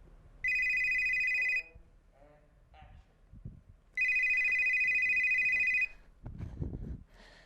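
A telephone rings on a theatre stage in two long electronic bursts, loud and steady, with quieter stage sounds, footsteps and a voice between the rings.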